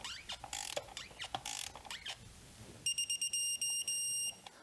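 Bolts on a metal valve cover of a BMW E46 330i being torqued down: a few rapid ratcheting clicks, then a series of sharp, evenly spaced mechanical clicks ringing near and clear, with no voices.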